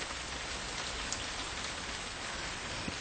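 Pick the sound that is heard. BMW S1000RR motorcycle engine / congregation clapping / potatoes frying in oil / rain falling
rain falling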